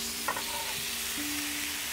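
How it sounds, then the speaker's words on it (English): Pork belly hits a pan of darkened caramelized palm sugar and sizzles loudly and steadily up close, with a brief stir near the start. "add the pork belly in."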